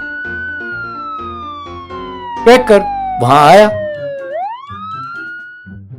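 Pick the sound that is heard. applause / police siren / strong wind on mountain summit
police siren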